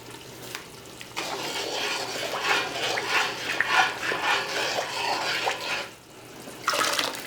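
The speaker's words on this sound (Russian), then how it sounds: "Рис промываем до прозрачной воды." Rice is rinsed under a running kitchen tap, water splashing and swirling in a bowl for several seconds in a quiet kitchen, with brief pauses as the grains are stirred and drained.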